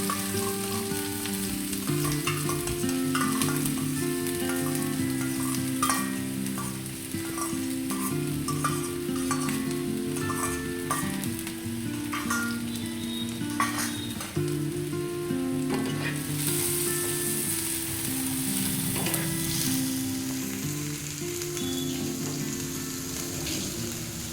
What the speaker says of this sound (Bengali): প্রথমে আমরা দিয়ে দেব পেঁয়াজ, ক্যাপসিকাম আর লঙ্কা একসাথে ভেজে নেব।